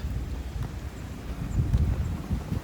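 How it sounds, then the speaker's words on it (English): Strong winter wind gusting at 35 to 50 miles an hour in 23-degree cold, buffeting the microphone in loud, low rumbling bursts that rise and fall with no voices. "Blowing pretty good, probably about 35, 40 mile an hour with like 50 mile an hour gusts"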